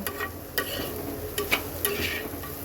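Salted onions fry in a pan with a constant close sizzle, broken by a few sharp scrapes and taps of a spatula stirring, with no voices.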